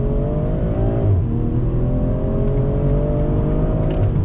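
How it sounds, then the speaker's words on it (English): A BMW M340i with an 8-speed automatic accelerating hard during a test, the engine droning steadily and loudly with rising pitch and one brief dip at a gearshift, heard from inside the car. "Let's do a little bit of an acceleration test here."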